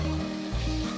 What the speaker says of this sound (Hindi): अब इस टाइम पे मैं इसको अच्छी तरह चम्मच को थोड़ा सा हिला लेती हूँ ताकि ये मिक्स हो जाए